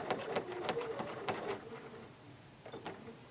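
A sewing machine stitches a quarter circle on a quilt block in quick, faint bursts of rapid mechanical ticking that stop, then resume briefly near the end.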